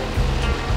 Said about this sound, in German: Hier kommt so viel Wasser runter,